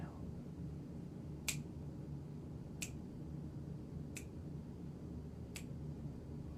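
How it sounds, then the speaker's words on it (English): Four sharp finger snaps at an even, slow pace, spaced about a second and a half apart, marking breath counts during a meditation exercise over a quiet, low background hum. "I will snap my fingers to keep us on count."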